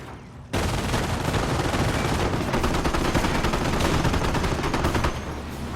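Sustained, loud bursts of machine-gun fire rattle on continuously in a Company of Heroes-style multiplayer battle, with overlapping gunfire and no talking.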